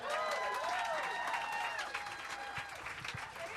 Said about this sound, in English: Clap it up for your host